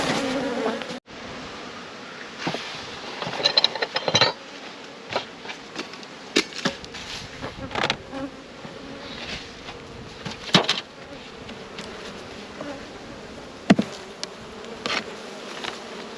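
Honey bees buzz inside a beehive of a struggling colony crowded to one side of the hive, a steady close drone with scattered sharp knocks and clicks throughout and no voices.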